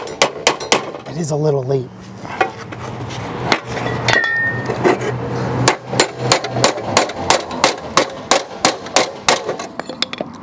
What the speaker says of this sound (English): Hammer and dolly. Try not to cause too much noise.